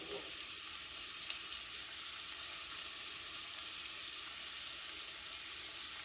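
Onions and carrots sizzle and fry steadily in a hot soup pot, a continuous bright crackling hiss close by with no talking.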